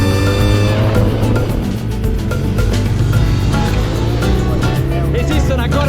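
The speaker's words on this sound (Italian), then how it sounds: "Quindi rimettiamo in moto la motocicletta e dirigiamoci verso Sorrento." Motorcycle restarted on a coastal road near Sorrento, its engine revving and droning loud and close as it pulls away, with a rising roar, wind and road noise and a voice speaking over it.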